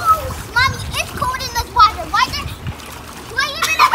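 Children splashing and playing in a backyard pool, water sloshing and splattering close by while kids chatter and call out throughout.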